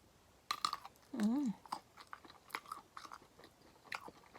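Crispy Western-style sausage chewed close up with mayonnaise, giving several crunchy bites and a brief wet squelch, with quiet murmurs between bites.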